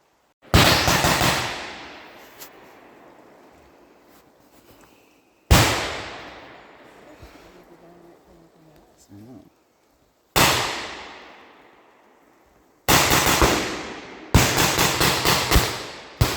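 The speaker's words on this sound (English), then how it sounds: "the 2nd Armored guys had already engaged in the enemy, so this is, from our perspective, what was going on" Blank-fired rifles at a WW2 reenactment battle crack out in sharp, loud bursts, one shot then another after pauses, ending in a rapid cluster of reports, each trailing off in a long echoing decay across open ground.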